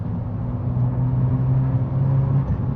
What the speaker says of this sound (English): you have a quad exhaust that sits somewhere here